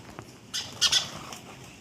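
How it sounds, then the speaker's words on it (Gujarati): Sparrows near a rural yard give a few brief, fairly faint squawks and chirps mixed with a quick flutter of wings in the middle of an otherwise quiet moment. "આ ચકલા જુઓ તમે"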